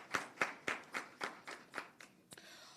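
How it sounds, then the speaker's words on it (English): At a press conference of Jamaica's Education Transformation Oversight Committee, a small group claps for the ministry team, about nine distinct, fairly faint claps in an even rhythm that quickly trail off. "So another round of applause to the ministry team."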